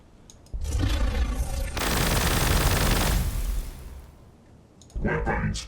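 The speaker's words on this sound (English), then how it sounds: "Let's go and use these Gauze Flayers now." Necron Gauss Flayers firing in the strategy game Warhammer 40k Gladius, a harsh crackling energy volley that swells into a loud sustained burst and then fades, with brief voice-like bits at the edges.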